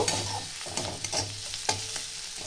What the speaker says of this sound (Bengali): আর 6-7টা রসুনের কোয়া, কাঁচা লঙ্কা 5-6টা। তাও হালকা করে আমি ভেজে নেব।